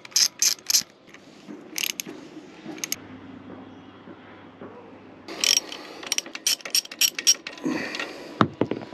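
Ratcheting clicks from a wrench tightening the axle nut on a Talaria e-moto during a supermoto wheel swap, in short rapid bursts separated by quieter handling noise, close up and without talking.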